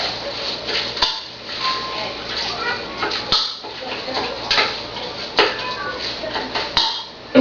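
A spoon stirs homemade chili in a pot, giving repeated close scraping and clanking against the metal. Some sharper knocks come through, and a voice speaks faintly in the background.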